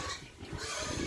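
Farm pigs grunt and squeal in a short, noisy burst, close and fairly loud.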